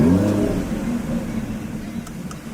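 A 630-horsepower sports car with an in-house built engine revs loudly up close, a strong low rumble that rises and then holds steady as a throaty idle through the short stretch, with no voices.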